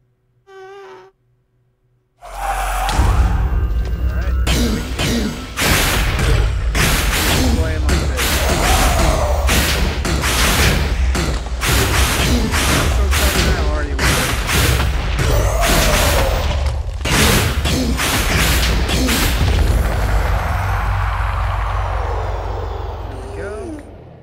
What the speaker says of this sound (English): Wait for the explosion.